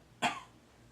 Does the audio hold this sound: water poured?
no